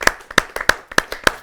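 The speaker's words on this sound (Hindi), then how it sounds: "जोरदार तालियों से उनका स्वागत करते हैं।" An audience at a Hindi poetry gathering claps to welcome a poet from Noida, heard as a close, sharp, rhythmic run of handclaps about three per second.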